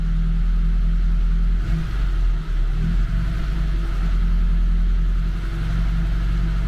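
A ZAZ Tavria engine with an oil pressure problem is revved gently and held at raised revs, giving a steady, loud, close mechanical drone that barely changes over several seconds, with no one speaking.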